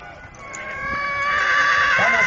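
Horses at a cavalcade neighing and whinnying loudly, with a long rising whinny close by and faint hoof clip-clop beneath.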